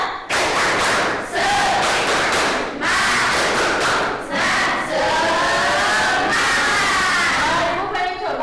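A school class shouts in unison and claps in rhythm for a classroom cheer, loud, close group voices with thumping, patterned claps and a few sharp breaks between bursts.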